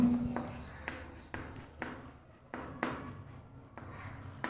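Someone writes on a board in a series of about eight quick, crisp strokes at fairly regular intervals, each a short scratchy burst, close and moderately quiet.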